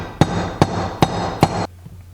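Four sharp, evenly spaced hammer taps ring out one by one while punching down Loctite-secured screws on a dirt bike engine, close and fairly loud, then a quiet tail.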